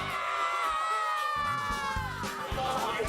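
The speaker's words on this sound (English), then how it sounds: "So I'm out here with all of these crazy Sheridan fans, and they're trying to cheer on the Generals to beat Maysville tonight." Crowd of Sheridan Generals high school football fans cheering and whooping at a game against Maysville, a loud sustained mix of shouting voices and screams close by throughout.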